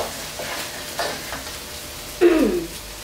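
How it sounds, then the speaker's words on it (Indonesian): Candle nuts and spices sautéed in hot oil until crisp for chicken rendang: a soft continuous frying hiss with a few scrapes of stirring, then one louder scrape and sizzle near the end, close up with no talking. "so kita nak kasih dia tumis garing lah dulu"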